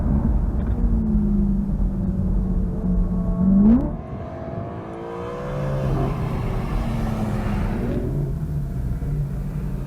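A BMW M3 accelerating hard in a short drag race, its engine note climbing through rising revs with gear shifts, loud and close, easing briefly before building again.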